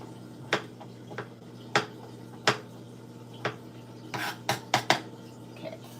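A bowl handled in a home kitchen while a Veggetti Pro spiralizer is unboxed: a string of sharp, close clinks and knocks of dishware at an uneven pace, with a quick cluster of clatters toward the end.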